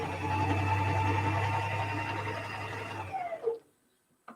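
A sewing machine stitches the seam of a quilted dog coat with a steady close whirring hum for about three seconds, then stops, leaving a few faint handling clicks.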